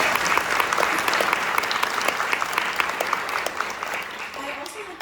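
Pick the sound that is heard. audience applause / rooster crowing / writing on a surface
audience applause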